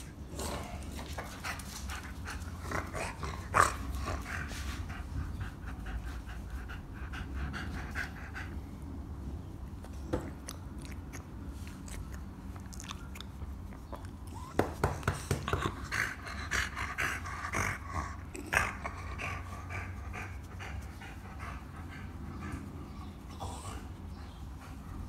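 A two-year-old dog pants steadily and close by through a training session, with occasional soft whimpers, small yips and scuffles over a low background, and no clear speech.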